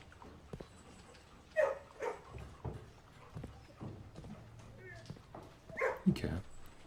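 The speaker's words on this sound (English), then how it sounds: "You can pet the dog." A dog in the video game Blue Prince reacting as it is petted, with soft whimpers and brief bark-like yelps in bursts among light game footstep sounds, fairly quiet throughout.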